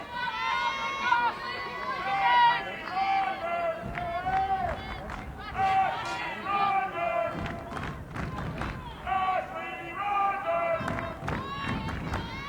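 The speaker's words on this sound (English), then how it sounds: "Hear the crowd cheering on." Crowd at an NCAA college softball game between BYU and Tennessee in a Knoxville stadium, cheering and calling out in a loud, steady roar of many voices that rises in bursts across the whole stretch.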